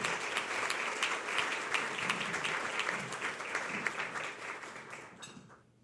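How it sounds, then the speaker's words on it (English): Audience applause for infant mortality task force members, a full, continuous clatter of many hands that holds steady for several seconds and then fades away at the close. "Please give them a round of applause and thank them for their service."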